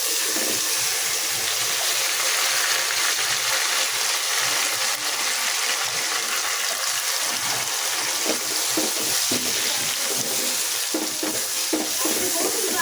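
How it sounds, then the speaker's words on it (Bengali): Soaked red lentils (masoor dal) tipped into a pan of fried onion, garlic and ginger for a bottle gourd dal bring on a steady, broad sizzle with stirring and scraping, continuous and close throughout. "দিয়ে দিচ্ছি ডাল"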